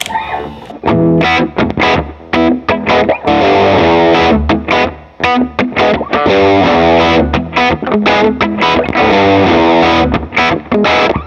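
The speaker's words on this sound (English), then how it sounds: "So here's the guitar tone without the delay." A loud, distorted electric guitar plays a chugging riff of chords and single notes, its tone crunchy and dry with no echo trailing behind.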